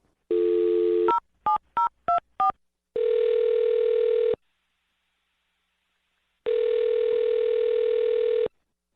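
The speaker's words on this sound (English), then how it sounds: "I'm going to dial her phone number right now" A landline dial tone sounds, then a quick run of keypad tones as a number is punched in, followed by two long steady ringback tones separated by silence, all clear and close.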